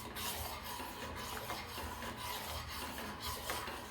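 A spoon scrapes and rubs steadily around a pan while custard-thickened milk is stirred for bread custard pudding, a continuous close rasping with no talk.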